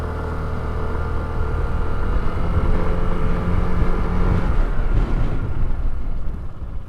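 A Kymco Dink R 150 scooter engine idles steadily up close as the throttle is given a light blip, with a continuous low hum that eases off toward the end, and no one talking.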